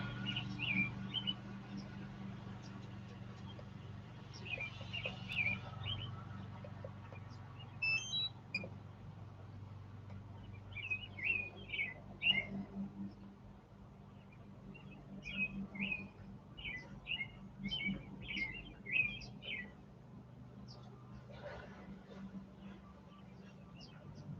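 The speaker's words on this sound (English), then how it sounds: "Listen to that beautiful bird." Bird sings outdoors, repeated short bursts of bright chirping phrases at moderate distance over a low background hum, with pauses between phrases.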